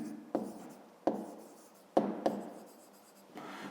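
Pen writing an answer on paper, close and quiet, with several short bursts of scratching strokes separated by brief pauses.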